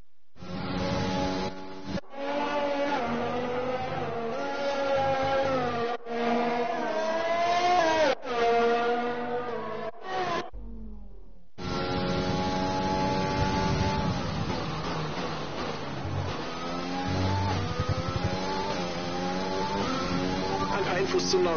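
A racing car in a PS4 driving game revs and shifts through gears, its engine note climbing and dropping in repeated sweeps with brief cuts between runs, while in-game voices speak over the engine.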